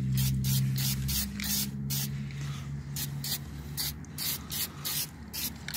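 Spray paint hisses onto the sanded rust repair on a BMW 325i body in steady bursts with short breaks between them, over a low background hum.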